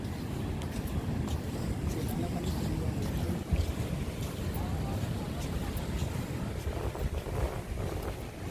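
Sea waves on a sandy, glass-strewn shore roll in with a broad continuous wash under heavy wind buffeting, the surf loud and steady throughout.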